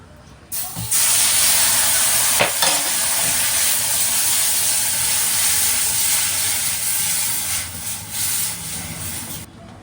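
Milk poured onto fried semolina in a wok erupts into a loud, sustained steamy hiss that starts abruptly, holds strong for several seconds with a few clinks, then gradually eases.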